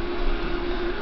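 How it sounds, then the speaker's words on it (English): A steady, droning helicopter rotor hum from a Minecraft game, constant in tone, loud and continuous for the whole short moment. "And that's my helicopter."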